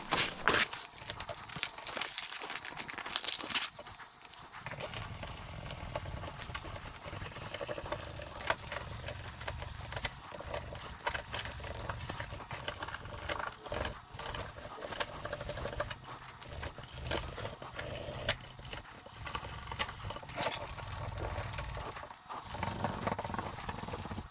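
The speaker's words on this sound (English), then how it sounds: "So let's go sanding this." Continuous rough scratching and rubbing of sandpaper against a hard plastic surface, steady back-and-forth strokes with brief pauses, close up.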